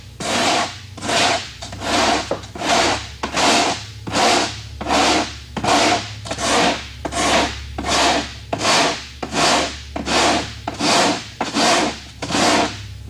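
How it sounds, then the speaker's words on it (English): A hard block sands the edge of a composite homebuilt aircraft surface in about fifteen rhythmic back-and-forth rasping strokes, close and steady, with no voices. "It does have an edge, a lip on it here, which will need to be sanded down."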